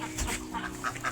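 Chickens and chicks clucking at feeding time on a small farm, a few short close calls in a quick uneven burst with no talk.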